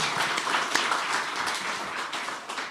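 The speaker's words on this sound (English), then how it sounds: "How about a round of applause for Zena and her team for their effort that they put" Audience applause at a press event announcing the renewed UT and Texas A&M rivalry, a dense wash of clapping from a crowd, moderately loud and continuous with no talk over it.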